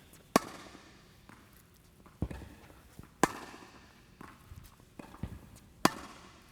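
Tennis balls fed and struck with a racket in volley practice, sharp sparse pops about a second apart, some louder and crisper than others, with faint movement between hits and no voices.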